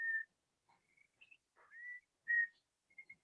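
A person whistles a short, simple catchy tune, a few bright clear phrases with gaps between them, close and alone in a quiet room.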